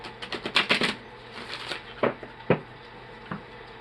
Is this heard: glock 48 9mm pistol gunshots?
no